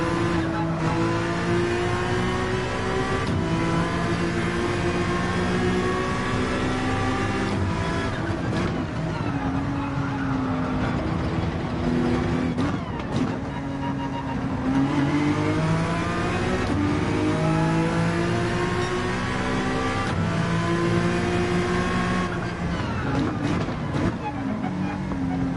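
A Porsche 911 racing in Gran Turismo 7, its engine droning and revving steadily with rising and falling pitch through gear changes, loud and continuous, with a voice talking over it.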